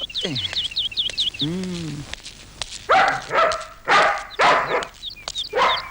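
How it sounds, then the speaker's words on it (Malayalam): A dog barks in a run of loud, close, sharp barks in the latter half of a Malayalam film scene, after a short whine, with birds chirping brightly throughout. "പിന്നെന്താ അത് കിടന്ന് കുരയ്ക്കുന്നേ?"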